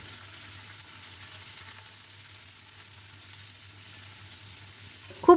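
Ridge gourd frying in oil with black cumin and dried chili makes a quiet, steady low sizzle with faint stirring. A louder clatter comes at the very end, and nobody speaks.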